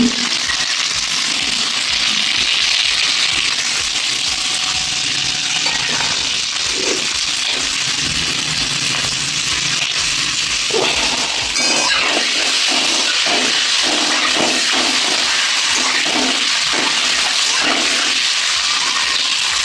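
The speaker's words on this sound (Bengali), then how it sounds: "আমি কড়াই তেল দিয়ে দিয়েছি বন্ধুরা এবার ডিমগুলোকে একে একে ভেজে নেব" Boiled eggs frying one by one in hot oil with turmeric in a wok for chow mein, a continuous loud hissing sizzle with occasional pops and scraping, close throughout.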